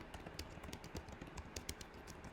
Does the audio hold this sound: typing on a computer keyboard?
yes